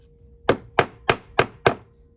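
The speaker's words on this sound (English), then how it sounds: "with a rawhide mallet so that we don't mar the metal" Five sharp, evenly spaced rawhide mallet blows on sterling silver, close and fairly loud, with a short ringing decay after each strike.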